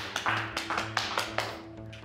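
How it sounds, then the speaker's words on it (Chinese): Sparse, light clapping from a small audience, a handful of separate hand claps spread unevenly over a couple of seconds, fairly faint. "掌声鼓励。"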